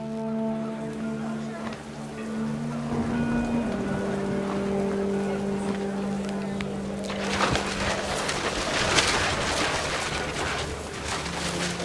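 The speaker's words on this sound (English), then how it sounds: "The rain came down in buckets then" Video game rain in What Remains of Edith Finch: steady hiss of falling rain, swelling into a dense, heavy downpour partway through, with a low droning tone underneath.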